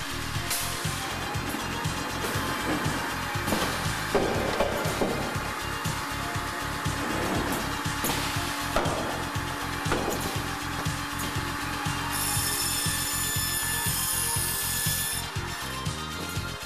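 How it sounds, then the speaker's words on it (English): A Hundegger K2i joinery saw loads and handles timber, producing a continuous mechanical hum with a rapid rhythmic rattle of rollers and a few thuds of wood, ending in a high whine. "The rubber clamps and non-marring plastic guide table ensure that timbers will be safely loaded and securely handled on the machine."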